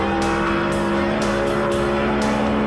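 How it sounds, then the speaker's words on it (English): NASCAR stock cars race flat out in a close duel, a loud, continuous, roaring engine drone at full throttle with steady pulsing surges, heard close and without any talking. "Both drivers are standing on the throttle"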